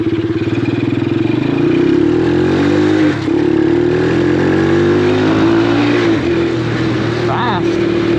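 A Venom X19 Super Pocket Bike's small engine runs loud and close the whole time, its pitch wavering as the throttle rises and falls, with a brief dip partway through.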